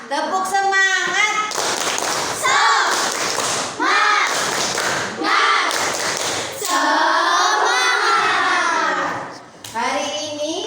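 A sixth-grade elementary school class performs a rhythmic spirit clap, with bursts of patterned clapping and thumping alternating with children chanting together in loud, energetic phrases.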